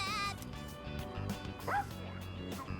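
An angry dog in Persona 3 Reload yaps and whimpers in short yips over game music, loud and close, with the barks coming in quick bursts through the whole stretch.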